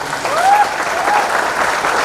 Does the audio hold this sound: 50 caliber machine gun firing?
no